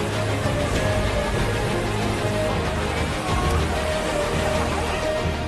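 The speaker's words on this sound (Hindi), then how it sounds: "जहां भारी बारिश के कारण राजधानी बीजिंग और आसपास के इलाकों में बाढ़ आ गई है" Heavy rain pouring steadily during flooding in Beijing, China, a dense continuous hiss of water with a low rumbling undertone throughout, no voices.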